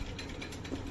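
Domestic sewing machine running a dhaar stitch along a blouse lining, a steady close mechanical whir with fast needle ticking for about a second.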